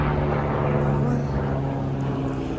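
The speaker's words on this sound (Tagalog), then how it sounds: "Ayun, helicopter." A helicopter flies overhead outdoors in the UK, producing a loud, steady droning rotor and engine hum that fills the whole stretch without fading.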